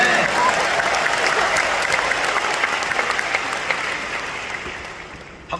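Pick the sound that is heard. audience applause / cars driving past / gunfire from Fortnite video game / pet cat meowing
audience applause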